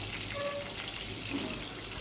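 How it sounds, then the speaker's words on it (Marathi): Pieces of Rani fish fry with curry leaves in a pan of hot oil, giving a dense, even sizzle and crackle that holds steady close by throughout with no talk. "एक एक करून आपली फिश आहे ती इथे फ्राय करायला टाकायची आहे आपल्याला"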